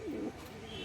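A Madras pigeon in a loft gives a brief, soft low coo, faint and close, followed by quiet background.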